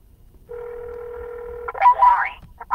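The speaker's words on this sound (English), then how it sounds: "Please leave a message after the tone." A steady beep tone on a phone call sounds for about a second and a quarter, then an automated voice starts talking over the line.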